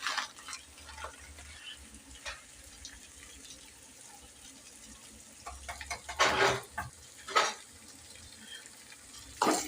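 Urad dal frying in a pan for quick breakfast dosa, a steady low sizzle with a few louder bursts of crackling and stirring scrapes toward the end, no talking.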